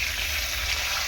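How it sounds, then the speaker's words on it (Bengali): Bele fish (tank goby) frying in a pan, with a close, steady sizzle throughout the brief moment. "অর্ধেকটা মাছ আমি এখানে ভাজা বসিয়ে দিয়েছি। দেখো এই যে ভাজা হচ্ছে।"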